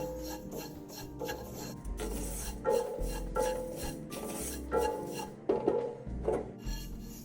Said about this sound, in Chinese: 加了调味料，再炒一炒